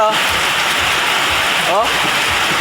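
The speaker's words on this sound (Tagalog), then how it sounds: "lakas ng ulan sa amin dito" Heavy rain pours outside a home, a loud steady hiss of drops that stays constant throughout with no break, filling the whole moment.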